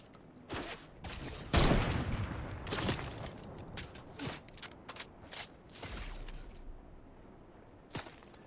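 Gunfire in the video game Fortnite during a late-match firefight, a series of sharp shots and bursts at irregular intervals, some loud and close, others lighter, with quieter gaps between.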